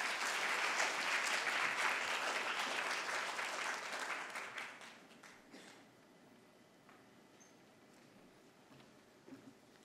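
Applause from a crowd at a fair and sustainable tourism forum in Seoul, loud and dense for several seconds, then thinning out into scattered claps that trail off to quiet.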